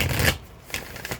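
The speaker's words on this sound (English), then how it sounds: "Let's get a good shuffle here." Brief riffle shuffle of a Moonology oracle card deck, a few quick papery flutters close up, with no talk.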